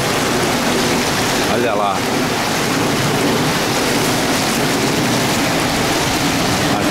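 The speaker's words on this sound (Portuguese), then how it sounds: "Mas por enquanto, é chuva intensa." Heavy rain pours down on a city street during a storm in Vila Prudente, a loud, dense and unbroken hiss of water filling the whole scene, with a brief spoken remark near the start.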